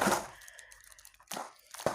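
A package of flavoured beans torn open by hand: a sharp plastic rip at the start, a quiet pause, then two more crinkly tearing bursts near the end, close and without speech.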